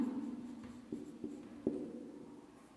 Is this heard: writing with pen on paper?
yes